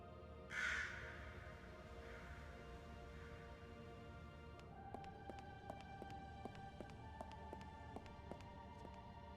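A raven in the puzzle adventure game Lost Horizon 2 gives a loud, close caw near the start, with a couple of fainter echoing calls after it, over a steady ambient drone and some light tapping.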